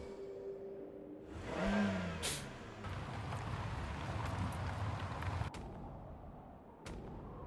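A car driving in the Surviving the Aftermath video game, with a steady engine rumble and road noise that swells early, holds, then drops away, broken by a couple of sharp knocks.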